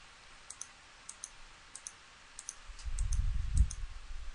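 A computer mouse clicking to place tiles in a game level editor: sharp, faint, closely paired clicks repeating about every half second, with a low rumble rising underneath toward the end.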